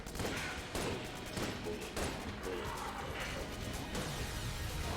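Gunfire in the Enter the Gungeon video game: rapid, uneven bursts of sharp shots and crashing impacts, dense and loud throughout, with no voices over them.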